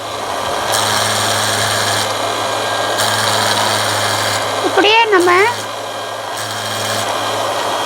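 A rolling sharpener works over a cutting machine blade, giving a steady gritty grinding hum over a low motor drone, with a brief squeaky scrape midway; a voice talks in the background.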